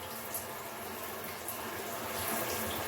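Water runs steadily from a Sikebang electric shower heater, giving an even, close hiss of flowing spray with no speech over it.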